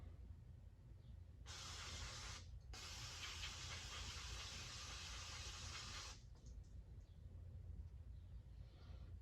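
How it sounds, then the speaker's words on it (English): Steady hissing spray of cleaner on a hydraulic wheel motor bursts out for about five seconds with a brief gap near the start, over a low rumbling background. "Spray this real quick here."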